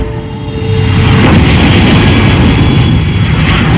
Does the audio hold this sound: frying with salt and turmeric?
no